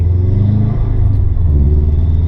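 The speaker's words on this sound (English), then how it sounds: "the sound of the intake is ridiculous" A car fitted with a Cobb SF intake and AccessPORT tune gives a loud, steady, deep engine and intake roar while driving, with no talk over it.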